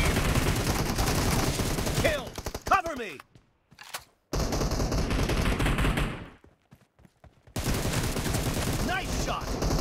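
Rapid video game gunfire during a team match, loud dense bursts of automatic shots broken by short gaps of near silence, with brief game announcer voices.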